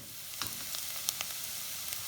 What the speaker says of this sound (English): This has had a little fry for a couple of minutes.